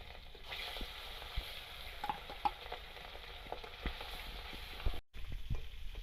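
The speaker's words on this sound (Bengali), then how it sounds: "এখন মাছটা ভেজে নেব। এই মাছটা খুব ফোটে, এই জন্য দেওয়ার সাথে সাথে ঢেকে দিতে হবে।" Boal fish frying in oil in a wok, a faint continuous sizzle with scattered small pops and spits, heard close and without speech, briefly cut out near the end.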